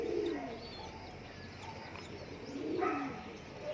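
Racing pigeons coo softly nearby in low, throaty bursts, two rounds of rolling calls with quiet background chirps between.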